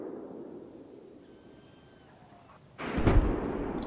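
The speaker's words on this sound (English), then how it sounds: "if you wait for the explosion" An explosion in the Battlefield 3 video game: after a few seconds of quiet ambience, a single deep, loud boom erupts and rumbles on to the end.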